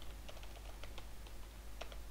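Soft, irregular key taps on a computer keyboard while code is typed, a dozen or so light clicks heard faintly over a constant low hum.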